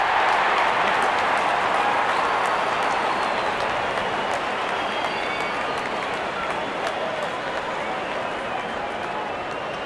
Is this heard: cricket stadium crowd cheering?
yes